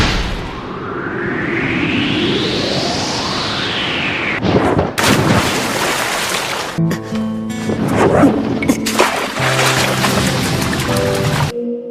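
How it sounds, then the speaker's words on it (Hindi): Fire Style Phoenix Flower Jutsu from an anime fight: a loud rising whoosh builds for about four seconds, then bursts into a series of booming, crackling blasts that fill the rest of the span, with no talk. "Fire style Phoenix flower jutsu."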